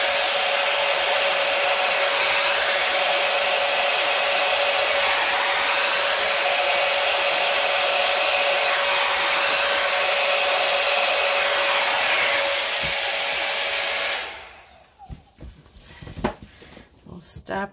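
A hair dryer or heat gun roars loudly and steadily for about fourteen seconds, blowing cell activator across poured resin paint for a bloom trivet, then cuts off, leaving faint handling sounds.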